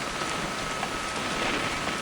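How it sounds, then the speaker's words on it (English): Rain in the video game What Remains of Edith Finch, a steady soft hiss of rainfall on surfaces, continuous and fairly quiet with no voices. "It's gonna rain the whole weekend,"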